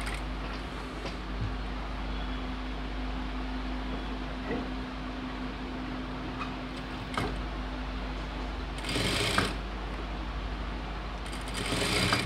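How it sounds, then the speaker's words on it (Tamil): A sewing machine runs continuously while stitching a chudidhar top, a faint steady mechanical whir with a few short bursts and clicks near the end. "ஸோ அது ஃபுல்லாக ஸ்டிச் போட்டுடுறேன்."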